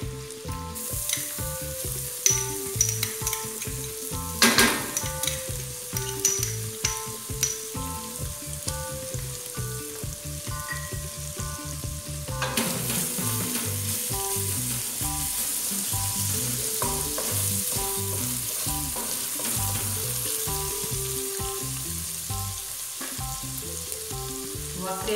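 Garlic sizzling and frying in a pan while making farofa with bacon and calabresa sausage, a steady loud crackle throughout with stirring clatter and utensil scrapes, no talking.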